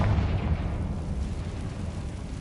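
A Confringo spell explosion in Hogwarts Legacy, a dense, rumbling blast that starts loud and then settles into a sustained roar with no talking.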